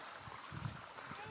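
Water running in a village backyard: a steady, faint trickling and splashing flow, heard briefly with a quiet voice underneath.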